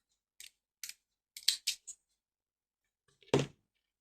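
Scissors snip a crochet yarn tail on a small hat, a few quiet, crisp clicks and cuts spaced irregularly, then a final louder snip, with near silence between.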